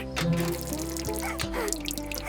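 Tiny water droplets drip from a cartoon tap, a sparse few soft drips set against steady tonal background music.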